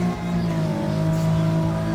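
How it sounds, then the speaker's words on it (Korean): Car engine in Gran Turismo 7 at the Goodwood Motor Circuit, a historic sports car in a five-lap race with manual gears, droning steadily with a sustained tonal hum at a constant loud level, no talk. "저는 지금 엔진 소리가 조금이나마 나고 있기 때문에"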